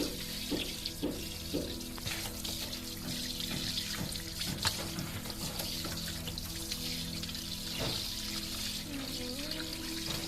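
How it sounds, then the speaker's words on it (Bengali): Koi fish being washed by hand under a running kitchen tap, a steady stream of water splashing into a sink with intermittent clatters and splashes, close and continuous. "মাছগুলি ভালো করে পরিষ্কার করে আমি ধুয়ে নিচ্ছি।"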